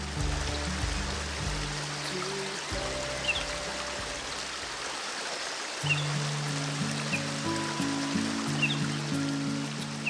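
A river flows along an English footpath on the way toward Ludlow Falls, a continuous rushing wash of water heard outdoors, with low droning tones layered over it.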